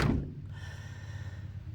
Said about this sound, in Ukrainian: Навіть отут двері ми ззаді закрили